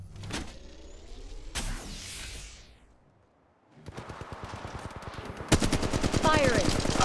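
Gunfire in the video game Apex Legends: a dense run of rapid automatic shots, loud and close, following a burst and a brief quiet gap, with mechanical clicks and game effects mixed in.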